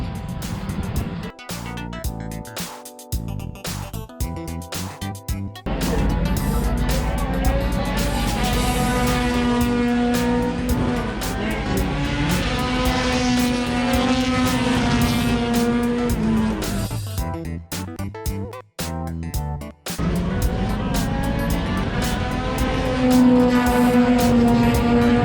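Rallycross race cars roar off the start line at ARX St. Louis 2019, a loud, sustained wall of engine noise with rising and falling revs and brief dips, crowd-level din throughout.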